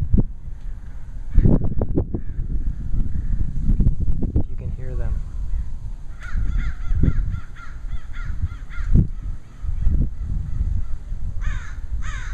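Black birds perched on a power line caw repeatedly in harsh, scattered calls at middle distance, under wind buffeting the microphone and low rustling.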